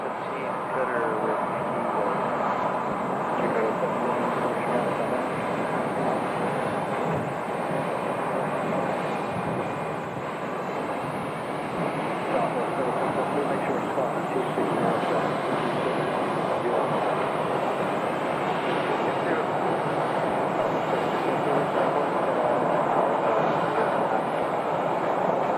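A jet airliner roars at Phoenix Sky Harbor Airport near Terminal 4, a loud, continuous broadband rumble and whine that holds steady for nearly half a minute.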